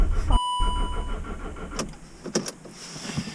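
A car engine fails to start in winter cold after the fuel ran low: a brief cranking whir, then scattered clicks and mechanical rattles in a quiet interior, close and moderately loud.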